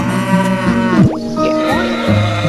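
A cow moos in the farming game Doraemon Story of Seasons, a single drawn-out bovine call rising and falling near the middle over steady background game music, with no talk.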